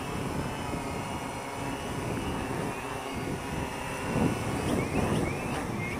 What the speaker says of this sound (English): I'm gonna go ahead and bring it down here and show you how you kill the props when you land it manually.